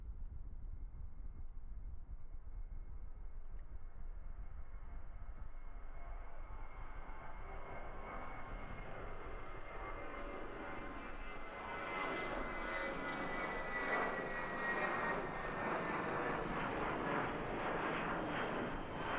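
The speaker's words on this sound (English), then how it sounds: "Steep climb there from the A320" An Airbus A320 jet at Christchurch Airport, New Zealand, roars through a steep takeoff climb, its broad engine rumble building steadily and growing louder and brighter toward the end, with no talk over it.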